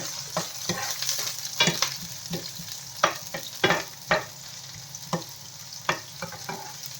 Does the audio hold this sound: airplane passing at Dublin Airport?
no